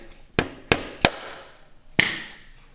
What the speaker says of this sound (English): A little tappy tap with a rubber mallet will hopefully